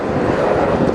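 Pair of BAC Strikemaster jets at an airshow, a broad roaring rush of jet noise with wind buffeting, loud and steady for a brief moment.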